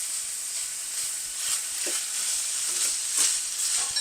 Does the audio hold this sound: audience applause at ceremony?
no